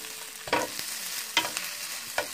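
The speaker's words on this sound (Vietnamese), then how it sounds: "Tôm này mình xào riêng tại vì nó xào lâu quá nó sẽ nhanh chín" Shrimp stir-fry in a hot pan, a steady sizzle broken by a few sharp bursts as the pieces are tossed and stirred, close up with no voices.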